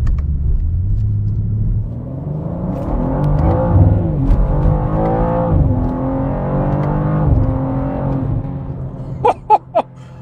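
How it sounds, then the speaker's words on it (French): BMW M2 accelerating hard through its gears, the engine note climbing and dropping with each upshift in a steady sustained roar, loud and close, with a few sharp pops or clicks right at the end. "l'accélération de cette voiture est réellement impressionnante"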